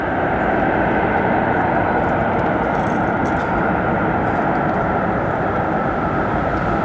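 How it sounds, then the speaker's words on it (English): A United airliner rolling out after landing on runway 10 center at Chicago O'Hare, using little reverse thrust: a loud, steady broadband engine roar, distant and continuous, with no voices. "Hardly any reverse thrust needed to stop that aircraft there, landing at about 143 knots"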